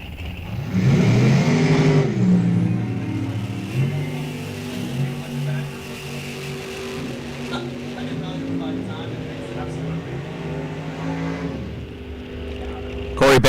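Drag racing cars at an NHRA National Open event, one a Corvette Roadster, launching with a loud roaring rev that settles into a sustained engine drone as they run, with an announcer talking over it.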